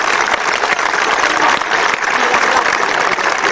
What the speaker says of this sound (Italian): io a Bruna un altro applauso particolare vorrei fare